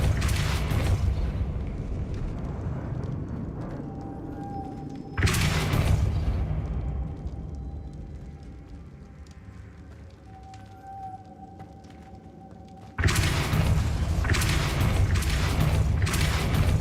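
Confringo fire spell blasts in Hogwarts Legacy, three loud broadband booms spaced several seconds apart, each with a long rumbling decay between them.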